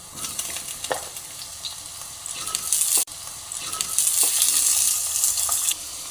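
Potatoes sizzle in hot oil alongside fried onion, cumin, bay leaf and dried chilli for a potato and taro fish curry, with scraping stirs and a steady frying hiss that swells louder partway through.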